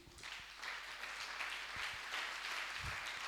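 A church congregation applauding to acclaim Jesus, steady distant clapping from a crowd that holds throughout, with a few low thumps underneath.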